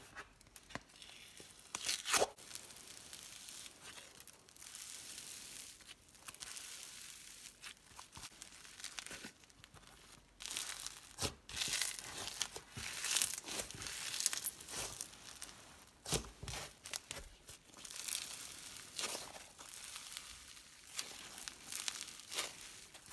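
Skittles Shaved Ice blue slime with rainbow sprinkles, squished and crinkled close up, with soft crackling, tearing and popping textures in irregular bursts, quiet and without talk.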